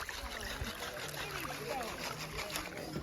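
Water sloshes and splashes in a sapphire gravel screen rocked with a teeter-totter motion in Montana's Sapphire Mountains, a continuous close swishing with light trickles and small splashes.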